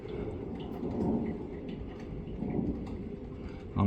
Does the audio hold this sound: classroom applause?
no